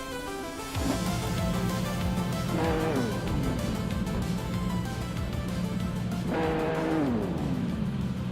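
A 2017 Orica 07 LMP2 race car at Goodwood in a racing video game roars loudly and continuously, its engine pitch climbing and dropping through repeated gear changes over about eight seconds.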